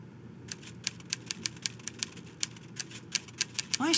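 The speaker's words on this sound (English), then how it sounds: "I say, Poirot, he seems to be typing up quite a storm." A typewriter clacking behind a locked door in the Agatha Christie game Evil Under the Sun: a steady run of sharp, separate keystrokes, faint and somewhat muffled, with a sudden louder sound entering at the very end.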